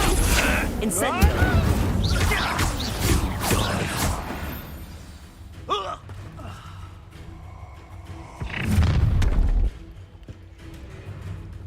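A fire spell blast from the Hogwarts Legacy video game: a heavy, booming burst rises near the end among other whooshing combat effects, with voices and game sounds throughout.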